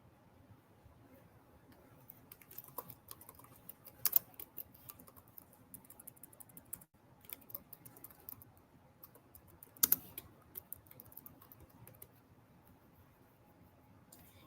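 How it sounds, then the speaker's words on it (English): Keys on a computer keyboard clatter in quick runs with brief pauses and a couple of sharper key hits, close and moderately quiet, with no speech over the typing. "let me type it in the chat."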